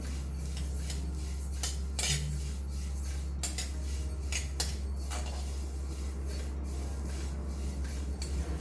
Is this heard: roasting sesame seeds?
yes